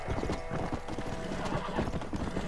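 Hooves of a galloping horse in the video game Red Dead Redemption: Undead Nightmare, a rapid, steady clip-clop rhythm that sounds close and continuous, with a neigh mixed in.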